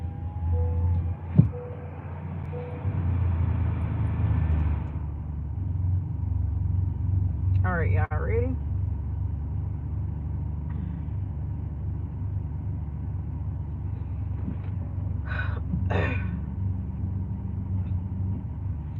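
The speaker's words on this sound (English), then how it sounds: "I'm gonna cut my car on." A car engine running after being started, giving a steady low rumble that continues throughout, with a few brief higher chirps over it.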